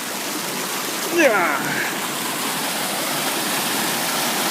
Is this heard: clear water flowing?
yes